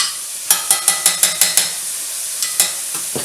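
Heaping teaspoon of garlic stirred through a sizzling pan, with a run of quick, close scraping strokes over a steady fry, a pause, then a few more strokes.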